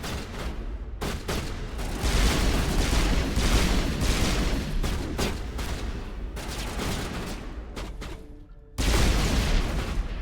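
Grenade blast in the original Mass Effect (Legendary Edition), amid heavy in-game gunfire and booming bursts, loud and continuous with a sharp explosive hit near the end.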